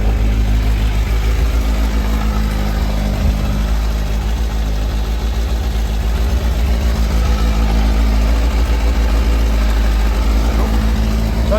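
A 2018 Kawasaki Versys 1000 motorcycle engine idling while warming up, a loud, steady low rumble with constant vibration and no change in revs, close by and alone.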